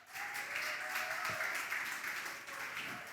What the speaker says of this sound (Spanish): qué tal si le regalamos un fuerte aplauso a todos los papás?